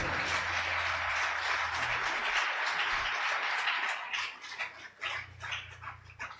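A church congregation applauding during a sermon, loud sustained clapping from many people that thins into scattered claps toward the end.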